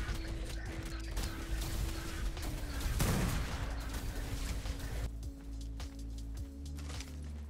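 Heavy gunfire during an online PvP raid in the Ark video game: sustained rapid shots and rattling mechanical noise, loud and close, with a low tonal hum running underneath.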